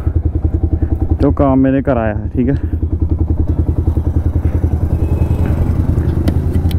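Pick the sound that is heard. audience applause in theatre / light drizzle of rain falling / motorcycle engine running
motorcycle engine running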